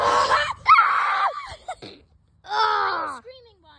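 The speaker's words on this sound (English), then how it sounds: "Screaming" A person screams loudly in several high, wavering bursts while lost in the woods, with short gaps and a brief vocal noise between the outbursts.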